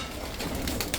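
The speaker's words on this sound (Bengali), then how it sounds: "এই দেখেন পানি দেওয়া মাত্রই সব কবুতর পানিতে নেমে গেছে, সব গোসল করতেছে।" Pigeons splash in a shallow water dish after fresh water is poured, a soft continuous wet fluttering with bird coos and brief wing flaps nearby.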